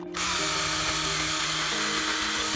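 A cordless drill running on a low battery whirs continuously with a steady, slightly uneven hum, close by and alone.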